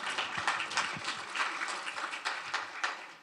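Scattered clapping from a small audience at a developer meeting, a steady patter of hand claps at moderate distance with no talking over it.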